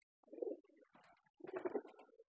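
Sirazi pigeons cooing close by, two soft throaty coo phrases separated by a short pause in an otherwise quiet space.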